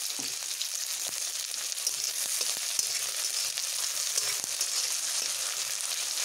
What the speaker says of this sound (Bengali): পেঁয়াজগুলোকে এইভাবে আমি একটু লালচে বাদামি করে ভেজে নেব।